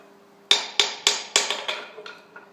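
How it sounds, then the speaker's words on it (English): Hammer strikes knocking slag off a weld on a small anvil in a workshop: six sharp metallic bangs in a steady rhythm, close and loud, each ringing briefly, the last ones fading softer, with no talking. "That's so I can bash the slag off the weld."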